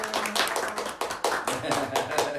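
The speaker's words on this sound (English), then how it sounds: "we're just going to do a little quick round of applause" Quick burst of hand clapping from a small group during a lively show, steady overlapping claps for a couple of seconds with faint voices underneath.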